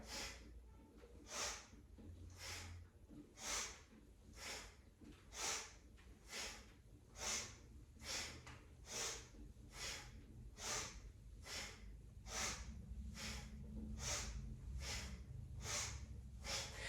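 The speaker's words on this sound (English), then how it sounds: "it's sniff breaths through the nose" Sharp nasal sniff breaths repeat in a steady rhythm, roughly one every 0.8 seconds, as someone breathes through the nose while twisting side to side, close and fairly soft over a low background hum.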